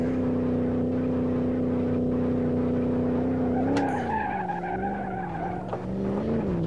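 A Gavril Barstow 291 V8 in the video game BeamNG.drive drones loudly at high revs, a steady engine tone that dips and wavers near the middle as tires squeal, with no talk.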